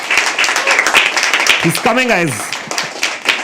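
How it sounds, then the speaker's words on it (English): Audience clapping at a live poetry open mic in a habitat venue, scattered hand claps running through the whole moment while someone speaks loudly over them and a voice rises in a drawn-out call. "Now, start clapping, start clapping."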